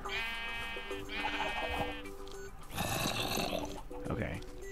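Minecraft sheep bleat in several short, repeated calls, fairly close, with someone talking over and between them and game sounds in the background.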